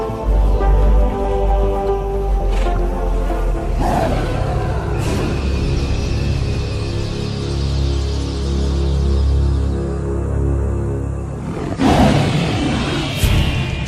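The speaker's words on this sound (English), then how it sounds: "This roar from afar is a sound that spells trouble" A lion roars in the wild, a deep, loud, sustained rumbling call that swells and recurs across the stretch, with brief pauses between bursts.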